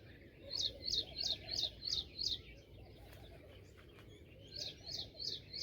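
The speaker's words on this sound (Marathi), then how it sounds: "फक्त पक्ष्यांचा आवाज आहे." Small birds in a garden in the early morning give repeated bright chirps in two bursts, over a soft steady background hum. The calls are moderately distant and there is no talking.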